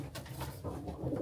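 Dark pet pigeons in a loft give faint, low coos at a distance, a murmuring hum running continuously through the short moment.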